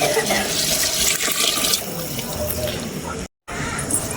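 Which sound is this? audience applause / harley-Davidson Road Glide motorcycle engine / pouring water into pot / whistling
pouring water into pot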